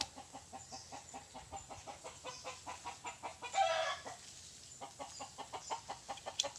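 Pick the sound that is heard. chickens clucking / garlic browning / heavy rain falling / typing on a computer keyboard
chickens clucking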